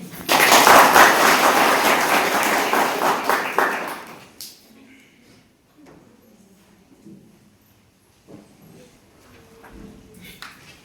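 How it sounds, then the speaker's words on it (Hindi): Guests at a church wedding clap in a loud, dense burst of applause lasting about four seconds, then it cuts off abruptly, leaving a quiet room with a few faint knocks and scattered small sounds. "ताली मारेंगे।"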